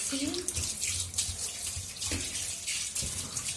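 A tap runs steadily while a cup is rinsed out, water splashing continuously and close by, with brief soft knocks of the cup under the stream.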